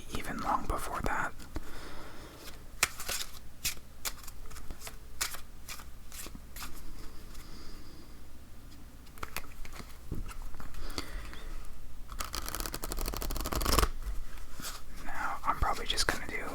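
Playing cards are shuffled in bursts of crisp riffling and soft patter close to the microphone, with quiet whispered talk between the shuffles.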